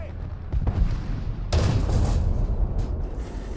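A tank cannon fires in War Thunder, a heavy booming shot with a long rumbling tail over continuous engine and battle noise, close and loud.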